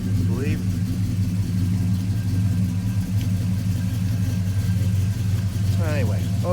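A 1956 Chevy 210 Coupe engine idles steadily at close range, a low continuous rumble throughout, with someone talking over it.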